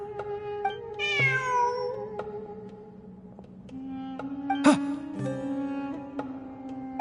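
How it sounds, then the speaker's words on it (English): Cat meowing in the video game Genshin Impact, several clear drawn-out meows with rising and falling pitch, close and prominent over a soft musical backdrop, with no talk. "Look! A cat!"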